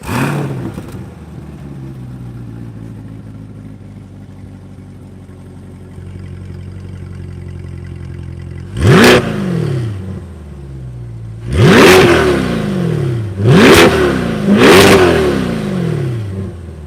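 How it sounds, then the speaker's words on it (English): A 2020 Chevrolet C8 Corvette Stingray Z51 idles with a low exhaust rumble, then the engine revs sharply four times, each roaring burst rising and falling, loud and close. "Start off with the exhaust note for the C8 Corvette."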